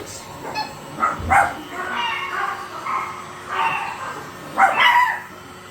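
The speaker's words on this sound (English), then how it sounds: "Doggies are barking." Dogs bark and yip in short bursts, fairly close, with a few whiny high-pitched yelps between them.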